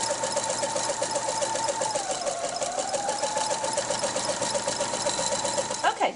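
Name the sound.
sewing machine stitching a rolled and whipped entredeux seam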